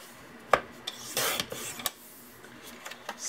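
A blade slicing through a paper gift tag in a few short rasping strokes, close and clear with small taps and pauses between cuts, no voices.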